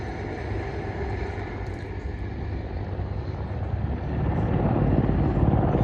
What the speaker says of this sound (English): And there's the Mi-35, an export version of the Mi-24V, turning away first.